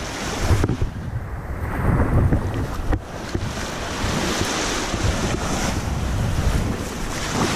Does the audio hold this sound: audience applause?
no